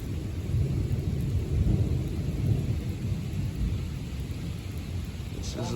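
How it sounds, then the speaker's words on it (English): A summer lightning storm brings a low, continuous thunder rumble that swells and fades over steady heavy rain, moderately distant and fairly subdued, with no clear talking. "This is like the perfect storm."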